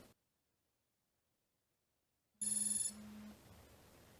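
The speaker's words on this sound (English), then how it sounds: "So now we'll see a quick example of the alarm." After a stretch of silence, a Garmin Forerunner 945 sports watch alarm beeps sharply, a short pulsing tone that cuts off and leaves faint background hiss.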